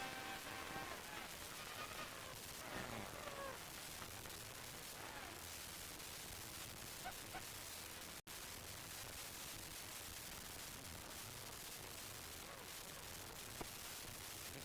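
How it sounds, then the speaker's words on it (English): Heavy rain pours steadily outside a balcony, a dense, even hiss of drops that runs without a break, faint and slightly crackly like a weak feed. "Go and look at the puddles and see how hard it's raining"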